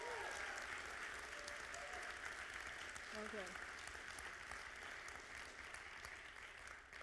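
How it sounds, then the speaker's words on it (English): Distant crowd applause for volunteers at a TEDx university event, a steady broadband patter running the whole stretch with a brief spoken word from a speaker over it. "Let's clap."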